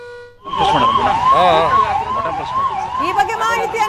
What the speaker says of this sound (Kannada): ಈಗ ಮಾಕ್ ಡ್ರಿಲ್ ನ ಹಂತವಾಗಿ ಸೈರನ್ ಸದ್ದು ಕೇಳಿಸಿರೋದನ್ನ ನಾವು ನೋಡ್ತಾ ಇದ್ದೀವಿ